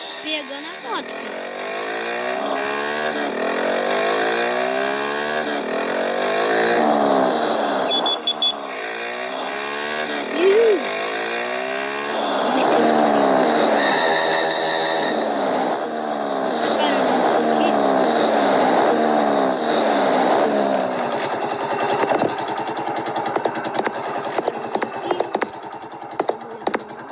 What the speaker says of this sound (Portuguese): tá aí pegando a moto, filho.